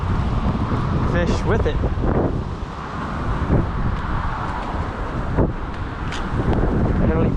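Strong wind at a roadside creek during tenkara fly fishing, heavy gusts roaring and buffeting the microphone in loud bursts, with a person speaking briefly over it and occasional rustling.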